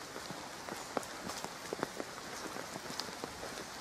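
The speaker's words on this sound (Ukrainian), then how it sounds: "Дощ, мушу йти, бо змокла." Evening rain falling in Nadvirna, a steady soft patter of drops striking surfaces with scattered sharper droplet taps, heard alone without voices.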